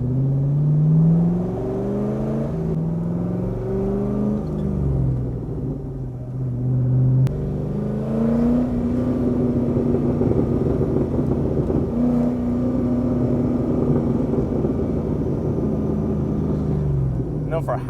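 A C6 Corvette with a muffler delete and new exhaust tips rumbles loudly and steadily throughout, its engine pitch swelling and dropping as it is revved, with people talking over it.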